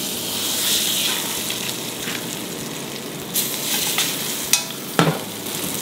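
Leeks (poireau) sear in a frying pan in duck fat, a steady close sizzle with soft stirring scrapes and a couple of sharp clinks near the end.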